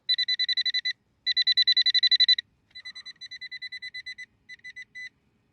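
A Minelab Manticore metal detector sweeps over a buried target in a UK field, giving clean, rhythmic electronic beeps in three bursts of rapid pulses, the last two softer and more broken, with no talking.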